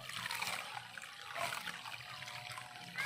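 Water pours from a bucket to dissolve fertilizer in a garden, a steady soft trickling and splashing stream running for several seconds at low level, with no talk.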